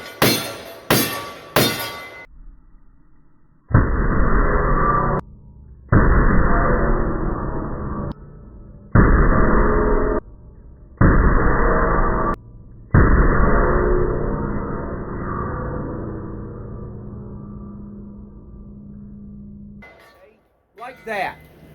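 Big-bore rifle fired five times in quick succession, each shot a loud, sharp blast with a long ringing tail and short gaps between, after a few clicks at the start; no talking.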